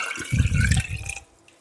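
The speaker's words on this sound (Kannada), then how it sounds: "ಮಸಾಲೆಗೆ ಸ್ವಲ್ಪ ನೀರು ಸೇರಿಸ್ಕೊಂಬಿಟ್ಟು ಹಾಕ್ಕೊತಿದ್ದೀನಿ" Water is poured into a ground masala for a lentil dal curry (bele kattu saaru) while cooking for fifty people, a short gurgling splash of about a second that trails off into quiet dripping.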